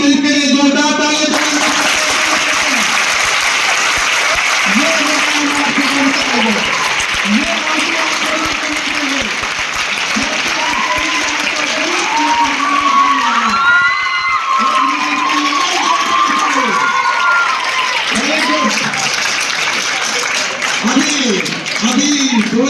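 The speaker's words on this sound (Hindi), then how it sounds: "अभी 200-400 लोग ताली बजा रहे हैं" A coaching-centre student felicitation crowd of a few hundred gives sustained loud applause and cheering, with a voice speaking in rhythmic phrases over the continuous clapping.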